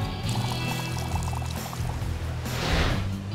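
Water pours steadily into a sand bucket at a beach in a kids' video game, a continuous trickling splash that swells louder toward the end, with no talk.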